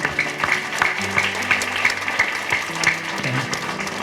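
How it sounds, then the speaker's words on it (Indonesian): Audience applause for alumni at a memorial gathering for an archbishop in Boawae, steady clapping at moderate level with a faint tonal hum underneath and no talk. "Kita tepuk tangan untuk Alma ya."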